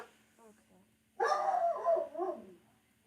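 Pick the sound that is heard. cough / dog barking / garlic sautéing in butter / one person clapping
dog barking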